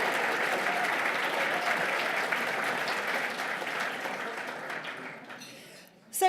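Audience applause and cheering at the 2018 West Oxfordshire Business Awards, a steady dense clapping crowd that gradually thins and fades toward the end, with a brief louder burst at the close.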